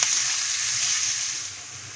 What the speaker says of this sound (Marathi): आणि यामध्ये आता कांदा घालूया आणि गॅसची फ्लेम मंद ठेवून कांदा आपण गुलाबीच्या रंगावर भाजून